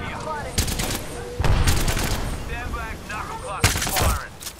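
Bursts of suppressive gunfire in the Apex Legends battle royale, sharp volleys at intervals punctuating the mix, with players' voices talking between and over the shots.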